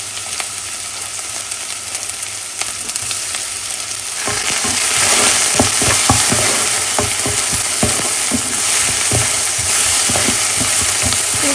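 Dried chillies, garlic and chopped onion frying in hot oil, with a steady loud sizzle that sharpens midway as stirring adds scraping clicks and spatters, no voices over it.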